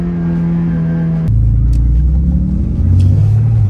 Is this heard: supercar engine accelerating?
yes